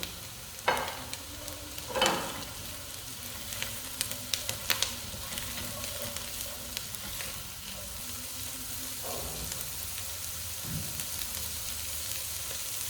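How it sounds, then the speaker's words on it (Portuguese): Onion and mirepoix vegetables browning in a pan for a lamb dish give a steady, quiet sizzle, broken by a few louder scraping stirs and clinks near the start and at times further on. "E vamos deixar dourar um pouquinho, não queimar, dourar."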